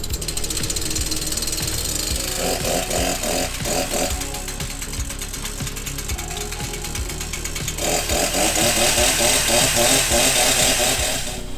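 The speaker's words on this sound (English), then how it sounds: "time to test the chainsaw and cut down a couple trees and a whole bunch of saplings" An Echo CS-490 chainsaw roars loudly and continuously close by while cutting trees, its engine pitch wavering as it bogs and revs, with a rattling, pulsing texture.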